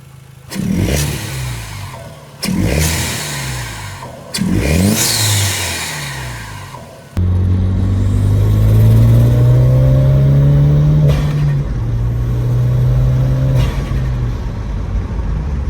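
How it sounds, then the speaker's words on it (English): A Genesis Coupe engine revs up sharply three times in quick bursts, then holds a steady, loud rising whine before settling into a rough idle. "let's hear how it sounds with the revs"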